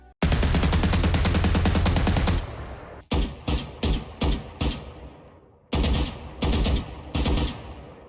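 Champions 2023 Vandal rifle from Valorant fires a loud, close sustained automatic burst, followed by several short, punchy bursts of a few rounds each with brief gaps between them. No voices are heard.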